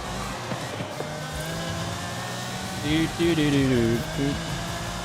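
A car engine drones in Forza Horizon 5, a steady hum that swells into a rising revving pitch midway, with a person talking over it.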